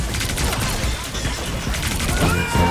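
Air strike explosions in a hero shooter video game crash as a dense, continuous barrage of blasts and bursts, loud and close throughout, with no pauses between impacts.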